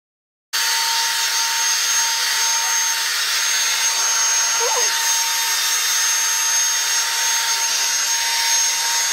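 A steady, loud motor whir from a Revlon One Step hair dryer brush runs continuously after a brief silent start, with a faint high whine over it.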